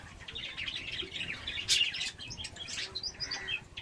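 Budgerigars chirp and tweet busily, overlapping high calls with a brief flutter of wings, close and fairly loud.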